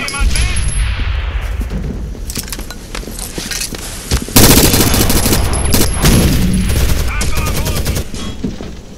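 Dense rapid gunfire from Rainbow Six Vegas 2 gameplay, bursts of shots crackling almost continuously for the whole stretch and growing louder near the middle, with voices heard mixed in.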